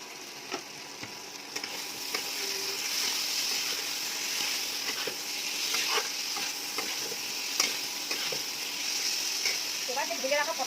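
Vegetables fry and sizzle steadily in hot oil while being stirred, with a continuous hiss and scattered scraping clinks across the pan; a few soft voice traces appear near the end.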